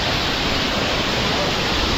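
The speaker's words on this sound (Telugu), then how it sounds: "పెద్ద జలపాతం, ఇదో పెద్ద జలపాతం." A large waterfall on the Kedarnath trekking route roars as a dense, constant rush of water, loud and unbroken throughout.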